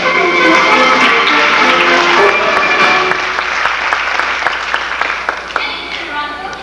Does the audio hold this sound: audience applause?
yes